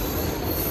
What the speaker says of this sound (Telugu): ట్రైన్ వెళ్ళిపోతుంది అక్కడ.